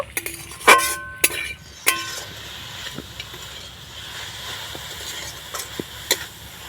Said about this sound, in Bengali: এবার আমি নাড়াচাড়া করে পুর তৈরি করে নেব